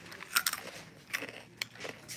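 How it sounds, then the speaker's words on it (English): Someone munches crunchy snacks, likely lemon hot Cheetos, with several close, crisp bites and chews in quick irregular bursts. "If you guys hear me chewing, I am so sorry."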